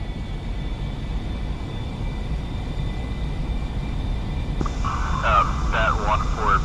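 In the DCS flight simulator game, a jet engine spools up as a steady roar, with a high whine rising partway through while voices talk over the radio.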